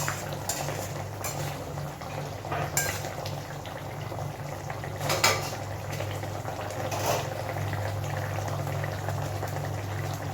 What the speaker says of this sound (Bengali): আর একটু ফুটিয়ে নেব